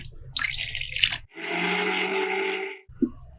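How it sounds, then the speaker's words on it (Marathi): Half a small bowl of water poured into a mixer jar over spinach chutney ingredients, a steady close splashing pour lasting over a second, preceded by brief clatter and followed by a short knock. "त्यामध्ये घालूया अर्धी वाटी पाणी।"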